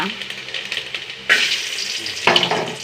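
Mustard seeds, urad dal and cashews frying in hot oil for a Kerala-style tempering, a loud steady sizzle with sharp bursts as more goes into the pan, up close and without speech.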